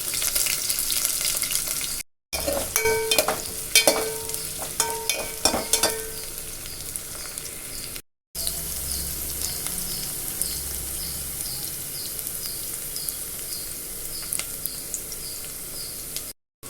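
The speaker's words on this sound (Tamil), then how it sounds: "வெங்காயம் பொன்னிறம் வர அளவுக்கு வதக்கி எடுத்துக்குவோம்." Chopped onions sautéing in a pan for kara kulambu, a continuous close sizzle with bursts of stirring and utensil clatter early on, broken by two brief silent gaps.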